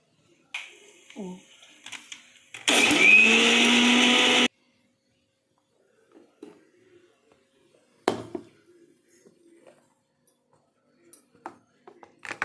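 A loud mixer grinder whirs for about two seconds grinding pepper, cumin and adamant creeper, then stops, followed by scattered clinks and handling noises with brief speech.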